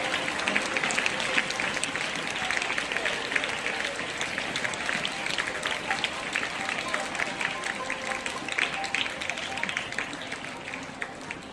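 Fairly quiet, scattered clapping from an audience at a lecture session, sustained but thin and lacking force, continuing evenly for several seconds without voices over it.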